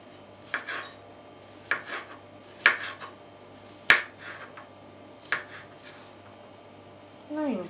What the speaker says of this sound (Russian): Грибы будем резать не очень мелко.